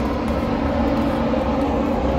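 An airplane drones overhead above a forest during an overnight barbecue, a steady broad roar holding evenly from start to finish, with no voices.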